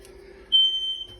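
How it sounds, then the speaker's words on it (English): A smoke alarm in a home kitchen where sourdough bread is baking gives one sharp, high-pitched electronic beep lasting under a second, loud and close, with no voices. "Oh yeah, that's the alarm."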